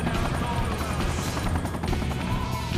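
A helicopter in the Sonic Generations video game, its steady rotor drone and whine running continuously under dense game effects and clatter, with a voice talking over it.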